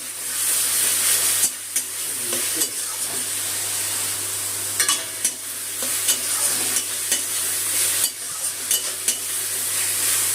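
Tomato paste with ginger, garlic and green chilli sautés over raised heat for a fish kalia, giving a steady close sizzle with scraping stir strokes and occasional clatter throughout.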